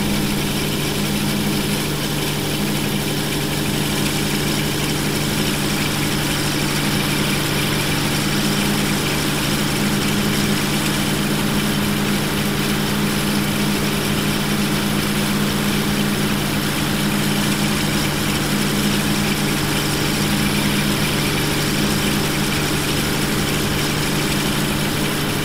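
A train engine idles in Train Simulator 2013, giving a steady, continuous low drone with a mechanical hum that holds unchanged throughout, with no talking.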